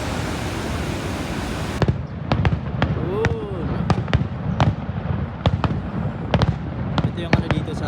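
Night fireworks show at Niagara Falls: a steady roar of falling water underlies a long run of sharp, irregular bursts and bangs, some loud and close, others fainter, with a whistling rocket partway through.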